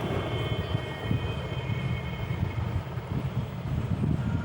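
Volvo bus pulling away, a loud low engine rumble with a steady whine above it, rising and falling slightly as it moves off, no voices.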